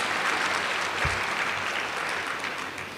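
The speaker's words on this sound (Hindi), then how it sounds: "मुबारक की ताली बजा लो पहले।" Sustained applause from an audience clapping in congratulation fills the space, dense and even, holding steady at close range for the whole stretch.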